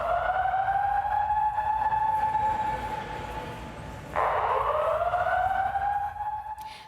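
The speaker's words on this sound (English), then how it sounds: "That is the sound of emergency alarms going off inside the Kentucky Expo Center." Emergency alarms sound inside the Kentucky Expo Center, a loud, steady electronic siren tone with a brief break and sharp restart partway through, ringing alone without talk.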